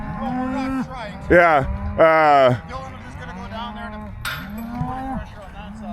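Cattle moo loudly and repeatedly in a pen during weaning of calves, several long calls close by, with a voice talking briefly in between.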